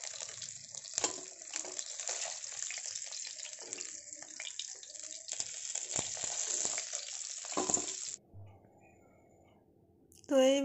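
Fish fries in oil with a steady, close sizzle broken by scrapes and clatter. It then cuts to near quiet before a short burst of another sound at the end.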